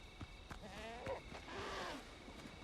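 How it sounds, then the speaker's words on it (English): Goats bleat in the Windrose video game, several quavering bleats overlapping over a couple of seconds, fairly faint, with a voice talking over them. "Oh god, goats."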